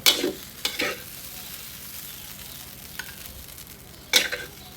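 Glass noodles stir-fried in a pan with sliced bird's eye chili and cha-om, giving a few sharp scraping strokes of the spatula over a low, steady sizzle, with quiet stretches between stirs.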